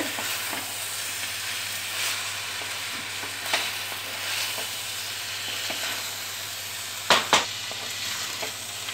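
Chicken thoran masala frying and being stirred in a pan, a steady close sizzle under occasional scrapes of the spoon, with a couple of sharper knocks near the end and no talk.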